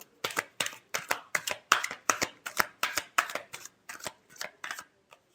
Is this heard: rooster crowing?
no